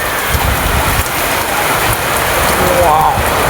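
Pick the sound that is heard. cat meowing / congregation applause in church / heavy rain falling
heavy rain falling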